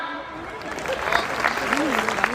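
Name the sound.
audience clapping at a poetry recital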